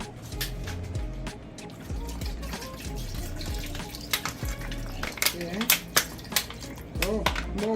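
Cold water runs from a refrigerator dispenser in a home kitchen while lemonade is being made, a steady pour heard close under a voice and other kitchen sounds.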